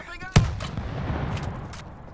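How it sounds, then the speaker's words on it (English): A grenade explodes in a video game with one sharp, loud boom that rolls out into a short rumbling tail, followed by faint game noise. "that's a grenade"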